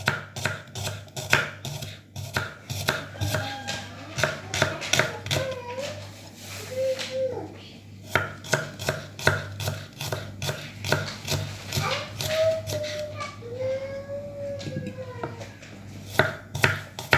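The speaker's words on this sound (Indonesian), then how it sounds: "Bawangnya diiris." Shallots and garlic are thinly sliced with a knife on a board for a Balinese stir-fried vegetable dish, giving a steady run of crisp, close chopping taps. A low hum sits underneath, with a voice faintly in the background.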